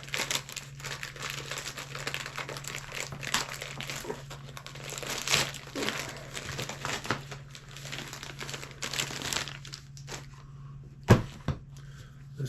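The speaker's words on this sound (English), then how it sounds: "More black plastic bags." Black plastic bags are handled and crumpled, giving bursts of crinkling close up over a low steady hum, with a sharp rustle near the end.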